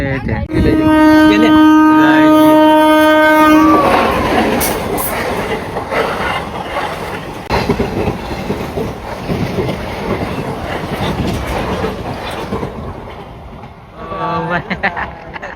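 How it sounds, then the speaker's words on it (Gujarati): A long, loud train horn blares at a railway crossing, then the train rumbles and clatters past close by for several seconds, with voices talking in the background. "ટ્રેન આવે છે અત્યારે"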